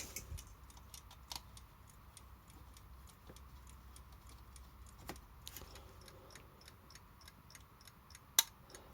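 Badische striking alarm clock ticking steadily at close range, a quiet regular tick over faint room hiss, with a few sharper clicks and handling knocks, no voices.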